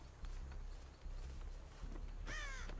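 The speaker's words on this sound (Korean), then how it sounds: "아이 저리가 까마귀 시키더라." Crow cawing in the horror game Dead by Daylight, a loud harsh caw near the end over a steady low game ambience with faint footstep-like thuds earlier.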